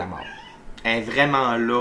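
A pet cat lets out a loud, drawn-out meow close by, following a woman's speech, with the voice continuing briefly underneath.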